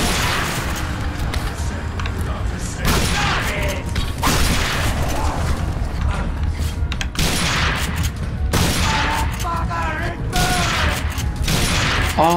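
Machine-gun fire in The Darkness II video game comes in several loud broadband bursts amid mechanical clanks and booms, repeating at intervals over a steady game background.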